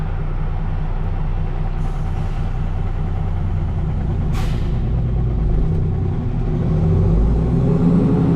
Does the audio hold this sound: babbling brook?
no